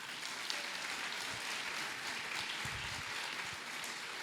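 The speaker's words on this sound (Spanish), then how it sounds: "Un aplauso para María Inés Pantoja." Audience applause at a book launch in a library, a steady, even wash of clapping throughout, moderately distant and unbroken by speech.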